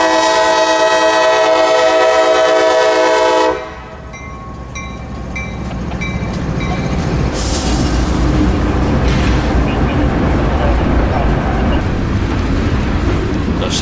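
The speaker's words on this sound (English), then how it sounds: "Coming out is a loaded coal train R636, as needed coal from West Jacksonville to Seminole Electric's plant in Palatka." A loaded coal train R636 from West Jacksonville sounds a loud horn with a held chord, then the rumble and clatter of the passing cars builds and carries on steadily.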